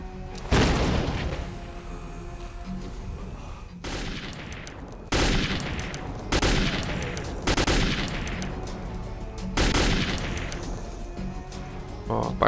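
Gunfire in the PC game STALKER Clear Sky with the Arsenal Overhaul mod: several loud, sharp bursts of shots, spaced a second or two apart, with ringing tails between them.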